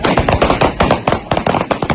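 Armed men fire on a Red Crescent bus convoy in rapid, repeated bursts of gunfire. The sharp cracks come loud and close in quick, uneven succession.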